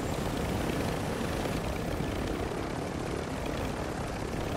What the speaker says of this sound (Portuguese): Contrato pegar o helicóptero.